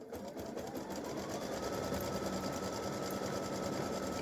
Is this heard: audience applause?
no